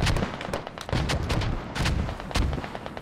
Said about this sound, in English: Our mortar barrage is landing